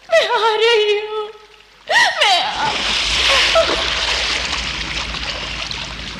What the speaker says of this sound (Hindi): नदी में कूद गई